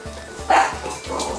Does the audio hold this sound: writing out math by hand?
no